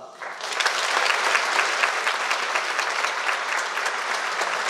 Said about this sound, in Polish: więc wielkie brawa